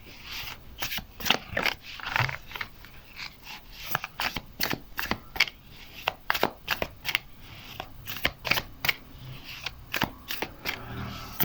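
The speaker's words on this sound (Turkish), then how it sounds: "Bir kart daha alacağım." Tarot cards are shuffled and drawn by hand, making a quick series of crisp riffling snaps and soft rubbing slides, close and fairly quiet, with no speech.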